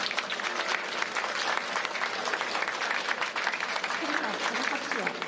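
Applause breaking out in a mission control room during the Hayabusa2 capsule reentry operation, a sustained patter of many hands clapping at moderate distance, with some voices talking underneath.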